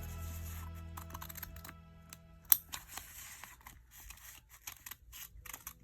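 Scissors trim fabric for a reverse appliqué Easter egg quilting square, with a series of close, crisp snips and rustling cloth in uneven bursts and one sharper click partway through.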